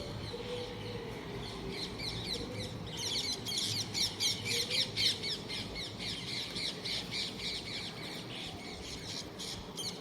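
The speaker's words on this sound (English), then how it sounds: "sorry about the birds guys, the parrots here decided to sing along" Parrots squawk loudly and repeatedly in a rough, chattering chorus that swells in the middle and carries on throughout, with a steady low background hum.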